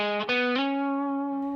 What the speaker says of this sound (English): this is a fun climb up lick here